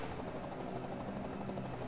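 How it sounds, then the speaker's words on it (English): Steady whirring drone of a helicopter in NASCAR Racing 2003, a continuous buzzing rotor hum at moderate distance with no breaks, nobody talking over it. "helicopter almost just hit the blimp you saw on the left-hand side"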